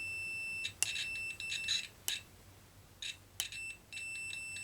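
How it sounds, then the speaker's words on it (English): Short electronic beeps from a Pro'sKit SS-331 soldering station during a continuity test between the ground prong and the tip, sounding as several brief bursts of tone against a quiet background with no talk. "And you hear that little ringing right there, or that beep."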